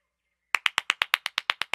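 Hand clapping as applause, a steady run of about eleven sharp, evenly spaced claps after a short silence, close and alone with no voices.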